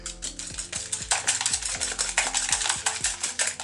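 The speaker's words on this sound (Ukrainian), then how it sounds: "і легенько взбиваємо їх" Eggs and sugar are whisked briskly in a bowl, the whisk clicking and scraping against the sides in a quick, steady rhythm, close and alone without speech.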